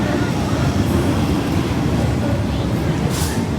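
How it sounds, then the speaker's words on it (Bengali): An arriving train produces a loud, steady rumble and roar that fills the whole moment, with a brief brighter hiss near the end and no clear speech. "ট্রেন এসে পড়েছে"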